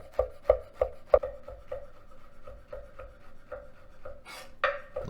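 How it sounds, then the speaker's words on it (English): A knife slices shiitake mushrooms on a cutting board, with a quick series of sharp, close taps that soften into lighter, evenly spaced cuts, followed by a brief scrape. "now the shiitake, I chop everything"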